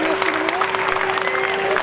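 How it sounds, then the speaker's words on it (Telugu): A crowd of Karimnagar people applauds at a public rally, a dense, loud burst of clapping with a sustained tonal hum running beneath it. "ఒక్కసారి కరీంనగర్ ప్రజలందరికీ 2 చేతులకి చప్పట్లు కొట్టురన్న"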